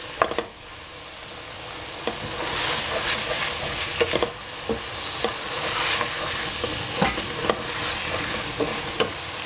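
Shiitake mushroom and eggplant stir-frying in cooking oil, with a constant sizzle punctuated by repeated scrapes and clicks of a utensil stirring in the pan.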